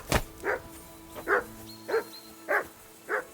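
A dog in Kingdom Come Deliverance 2 barks five times in an even, spaced rhythm, moderately close and fairly clear, with no talk over the barks.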